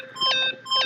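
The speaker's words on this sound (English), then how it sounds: "Stop that beeping and say something." An electronic device in Danganronpa giving two short bursts of bright, tonal beeps with a brief gap between them, clear and close with no voices.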